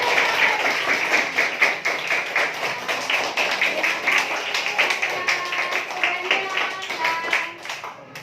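Primary school pupils at an Islamic elementary school give every group a rousing round of applause, a sustained, fairly loud clatter of many hands that tapers off near the end, with some voices mixed in.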